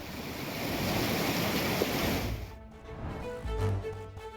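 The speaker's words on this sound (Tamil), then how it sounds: "நெல்லை மேலப்பாளையம் நத்தம் பாலத்தில் பெருக்கெடுத்து ஓடும் தாமிரபரணி வெள்ளம்." The Thamirabarani river in flood rushes beneath the Natham bridge at Melapalayam, Nellai, as a loud, steady roar of churning water that drops away near the end to a quieter wash with faint wind.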